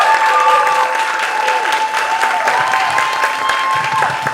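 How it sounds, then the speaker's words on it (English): Another burst of clapping fills a festival awards hall for actor Keith David, a thick, continuous crowd applause with faint voices threaded through it, holding steady from start to finish. "Another round of applause for Keith David"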